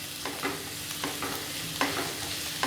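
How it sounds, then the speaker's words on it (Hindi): Chopped garlic frying in hot oil in a pan over high flame, a steady close sizzle with occasional stirring scrapes, no voices. "इसमें हम 2 टेबलस्पून चॉप किया हुआ गार्लिक ऐड कर देंगे"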